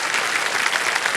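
Studio audience applause on the Hindi quiz show Kaun Banega Crorepati, season 16, steady dense clapping filling the whole moment at even loudness with no pauses.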